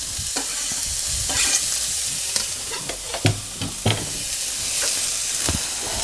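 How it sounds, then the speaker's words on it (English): Chopped onion frying on the highest heat for biscuits and gravy with a twist, a steady close sizzle with repeated scraping stirs and a few sharper clatters, no talking. "I'm going to go ahead and throw in the onion."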